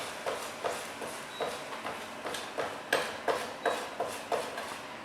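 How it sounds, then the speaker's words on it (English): Garlic is pasted with salt under a knife blade on a board, making a regular series of about a dozen soft, rhythmic scraping thuds that are close and fairly quiet. "we're going to paste the garlic"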